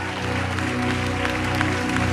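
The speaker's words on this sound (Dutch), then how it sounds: "Geef hem een flink applaus op het keyboard." Applause from a congregation at a live worship event. A dense, continuous wash of clapping stays fairly loud, with steady music tones running underneath.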